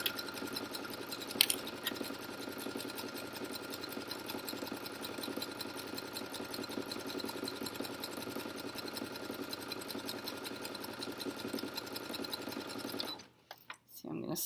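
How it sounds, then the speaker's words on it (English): A sewing machine stitches around a fabric winter neck warmer, a steady, close mechanical hum running continuously, with one brief clack early on, before it stops abruptly near the end. "we're just gonna let that sew around and speed up my machine again."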